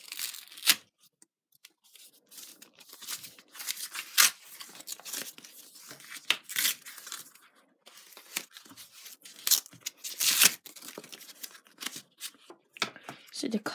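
A plastic envelope package of Match Attax football cards is ripped open by hand. Close, repeated tearing and crinkling comes in sharp bursts across the whole stretch, with a person talking over it.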